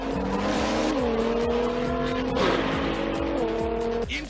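Micro RC toy cars, Pocket Racers, race with high buzzing motor whines that sweep and shift pitch continuously, loud and close, over a steady rhythmic backing beat throughout.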